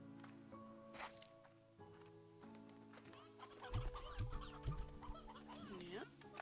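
Stony hens cluck in the farm game Slime Rancher 2, several short, fairly faint clucks and squawks sitting over steady background game music.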